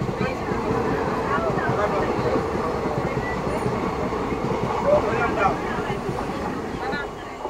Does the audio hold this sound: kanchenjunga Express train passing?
yes